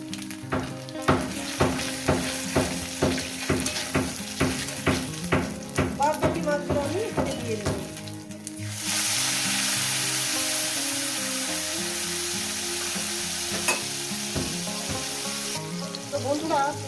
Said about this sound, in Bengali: আমি ফোড়ন দিয়ে বাদবাকি মাছগুলো দিয়ে এই ফোড়নের সঙ্গে একটু ভেজে নেব